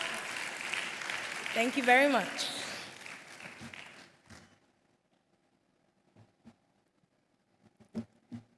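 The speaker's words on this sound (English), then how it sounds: "A round of applause for her." Audience at a hospitality summit applauds as a speaker is welcomed to the stage, a few seconds of clapping mixed with room noise that quickly dies away, followed by a voice offering brief thanks and scattered faint sounds.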